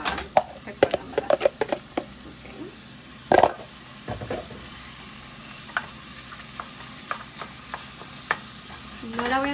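Seasoned ground meat hits a hot pan for chili con carne, sizzling steadily while a utensil stirs and scrapes in uneven bursts, with a louder clatter partway through and a brief voice.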